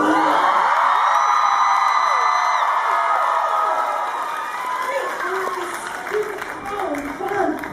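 A convention panel audience at a 2018 Once Upon a Time fan event in New Jersey cheers for Lana Parrilla. Loud whoops, shouts and applause start strong, then gradually thin out into scattered cheers.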